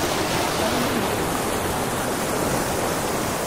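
Strong current of a river on a trip in Lobo, Batangas, a steady, loud broadband rush of flowing water that fills the whole clip without breaks, close and continuous with no voices.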